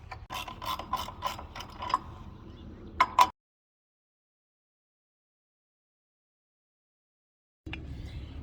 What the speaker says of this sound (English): hand tighten the U-bolts, come back with a 3/4 wrench and snug them down